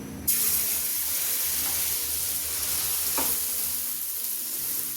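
Dosa-style batter hisses and sizzles steadily on a hot griddle, a close, even frying crackle with a brief scrape partway through.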